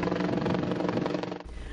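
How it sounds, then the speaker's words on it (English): A helicopter flying overhead during a river search, its rapid rotor chop steady and moderately loud for a moment before cutting off abruptly. "With a helicopter looking from above"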